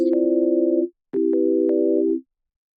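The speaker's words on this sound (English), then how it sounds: "We're gonna start off with a sine wave." A plain sine wave tone from the Vital software synthesizer sounds as two sustained, steady notes, each close and clean and lasting about a second, with a short gap between them and no other sound.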